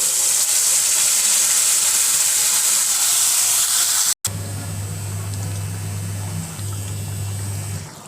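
Masala paste goes into hot oil already holding cumin seeds and bay leaves for a lotus seed curry, setting off a loud, steady sizzling hiss that cuts out briefly and then continues alongside a low humming drone.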